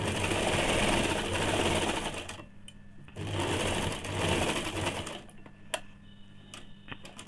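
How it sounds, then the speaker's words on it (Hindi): A sewing machine stitches around a salwar in two long, loud, steady runs. Short pauses between the runs carry faint handling clicks of the fabric and machine. "इस प्रकार से पूरे में गोलाई से सिलाई चला लीजिए।"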